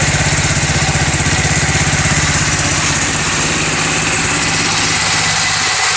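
A homemade tractor's engine, running on a newly installed battery, idles steadily up close with a fast, even chugging pulse and loud rattling vibration that holds the whole time, with no voices.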